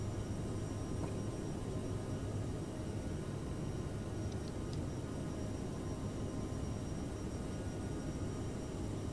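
Aerosoft CRJ regional jet climbing out with landing gear retracting in Microsoft Flight Simulator, a steady broadband engine roar at even, moderate loudness with no speech.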